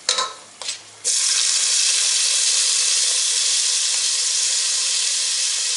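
Chopped tomatoes and peanuts drop into hot oil for Bengali bhuna khichuri, giving a few short clatters and then a loud, steady sizzle that holds evenly without pause.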